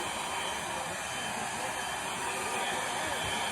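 A real hair dryer on a toy styling head blows with a steady, loud whooshing hiss and a thin whine, unbroken throughout.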